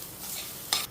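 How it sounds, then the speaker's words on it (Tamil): Grated coconut stirred dry in a pan with no water, a soft scraping and faint sizzle, brief and quiet with a sharper scrape near the end. "இப்போ இதை வறுக்க போகிறோம். தண்ணி இல்லாமல் வறுத்துடணும்."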